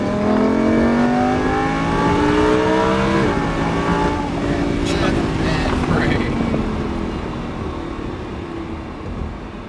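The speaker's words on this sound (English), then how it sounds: "Let's roll on that gas, accelerate up to the red cone." A car accelerates hard on a driving track, its engine note rising steadily and loud, with wind buffeting the microphone and an instructor speaking over the engine.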